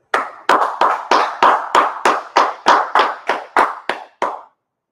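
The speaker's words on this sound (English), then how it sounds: "Go ahead, clap it up." A group claps together in a steady, even rhythm at a religious teaching gathering, about thirteen sharp, close claps that stop cleanly, with no talk over them.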